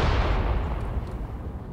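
Mortar fire in Graviteam Tactics, a loud, sustained low rumble of blasts and distant shelling that rolls on without a break and fades only slightly toward the end.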